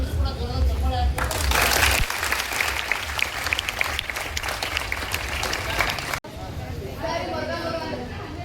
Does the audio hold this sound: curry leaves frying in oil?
no